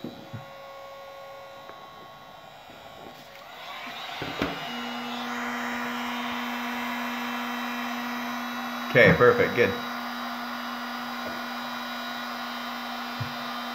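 A loud heat gun, used while building a Voltron Paladin cosplay helmet, switches on partway through and runs with a steady whirring blow and tonal hum. A person speaks briefly over it.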